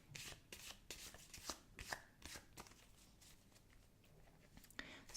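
Tarot cards are shuffled in quick soft riffles and taps, close and quiet, with a brief run of flicks and a few irregular slaps.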